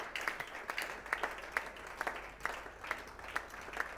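A church congregation applauding during a Sunday worship service, steady rhythmic clapping with sharp, regularly spaced claps over a crowd wash, moderately loud and continuous.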